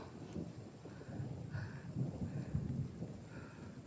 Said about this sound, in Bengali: অনেক বেশি মেঘ ডাকছে।